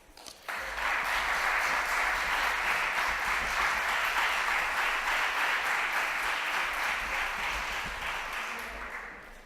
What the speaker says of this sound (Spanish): Así que recibimos a Juan Miguel con un aplauso